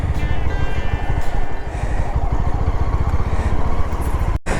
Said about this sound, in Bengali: খাবার বাইকটাকে এখানে পার্ক করি আগে